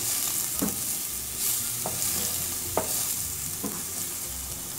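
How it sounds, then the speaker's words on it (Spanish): Garlic and finely chopped onion fry in hot oil in a pot, a constant bright sizzle with several spaced stirring scrapes and clinks of the utensil against the pot. "En una cacerola calentamos el aceite para sofreír el ajo y la cebolla finamente picado"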